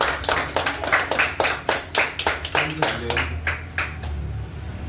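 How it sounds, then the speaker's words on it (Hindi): A small group claps in quick, uneven bursts for a crown ambassador at a business gathering, close and fairly loud, with a low voice murmuring underneath as the clapping thins out toward the end. "जोरदार ताली होनी चाहिए."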